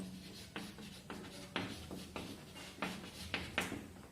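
Pen writing on paper during a class letter-writing lesson, soft scratchy strokes with a few sharper taps as the nib lifts and lands, close and quiet, no talking.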